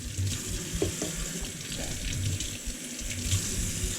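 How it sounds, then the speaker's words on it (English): Shellfish from Port Phillip Bay being rinsed under running fresh water, a steady broadband splash and trickle that continues throughout with a few soft knocks, fairly quiet and with no talking. "Gonna give them a quick rinse down with a bit of fresh water."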